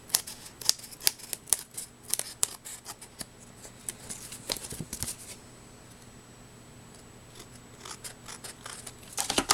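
Scissors snip leftover paper from the edges of a handmade photo frame card: a quick run of crisp cuts, a quiet pause, then a few more snips close by.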